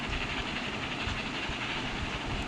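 A train rolls along rails in the video game Roblox Dead Rails, making a steady rumbling hum with faint hiss, constant and unbroken, with no talking over it.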